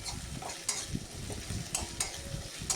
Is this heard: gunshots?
no